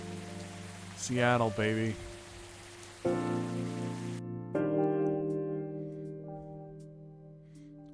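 Steady rain patters in the video game Coffee Talk, a soft constant hiss under a speaking voice and sustained musical tones. The rain wash drops away partway through, leaving the music alone.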